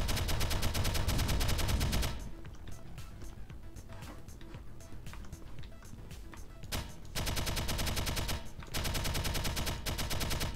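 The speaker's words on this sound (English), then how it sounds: "The shooting effects are satisfying as well." Video game gunfire rings out in dense, loud bursts of rapid shots, heaviest at the start and again near the end, with sparser sharp cracks in the quieter middle stretch.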